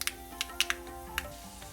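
Mustard seeds and fenugreek crackling in hot coconut oil on a pan, a handful of sharp, irregular pops and spits over a faint steady sizzle, close and fairly quiet.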